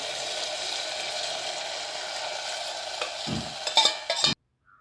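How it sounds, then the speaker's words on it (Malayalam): Kalthappam batter poured into a pan of sautéed onions, a steady hissing sizzle with clinks and scrapes toward the end before cutting abruptly to silence. "ഇനി നമുക്ക് അതിലേക്ക് നമ്മൾ നേരത്തെ എടുത്ത് വെച്ച മാവ് ഒഴിച്ച് കൊടുക്കാം"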